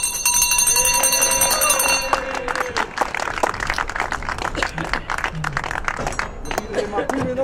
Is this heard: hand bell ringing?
yes